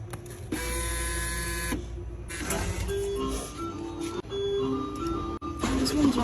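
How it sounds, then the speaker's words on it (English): An arcade claw machine in play gives steady mechanical motor whirring and buzzing, with electronic jingle tones and a few clunks as the claw moves and drops. "Let's see if I can win the claw machine."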